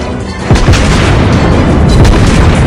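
Tank cannon fire in the World of Tanks video game: loud, dense booming blasts with heavy low rumble, a strong hit about midway, and continuous battle noise throughout, with no voices.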